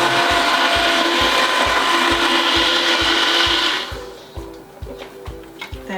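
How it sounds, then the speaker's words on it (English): A blender purees tomato soup with pasta, whirring loudly and steadily for about four seconds before it cuts off, leaving faint kitchen clatter and handling noises. "Now we're going to blitz this until everything in here is all pureed together."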